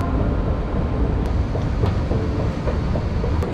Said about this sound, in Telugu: ఇదే నేను వెళ్ళే ట్రైన్.